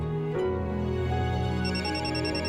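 A phone ringtone plays a steady electronic melody, loud and close, with no voices over it.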